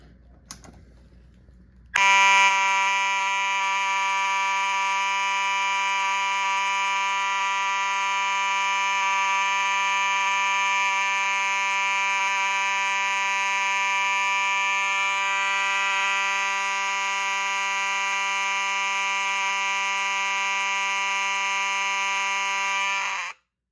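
A fire alarm horn with a Simplex 4903-style mechanism blares a loud, continuous buzzing tone for about twenty seconds after a brief quiet start, then stops abruptly.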